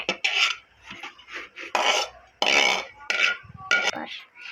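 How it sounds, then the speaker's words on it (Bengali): An eggplant is sliced into rounds with a knife. Close rasping scrapes and blade taps come in irregular bursts against a cutting surface, with no talk. "কিছুটা আবার গোল গোল করে কাটছি।"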